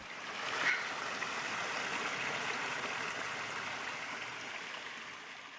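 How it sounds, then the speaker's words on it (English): Water pours steadily and continuously from a drainage pipe at a construction site, a broad, even rush with a brief louder splash near the start and no voices. "This pipe has been draining continually since before the academic year even started."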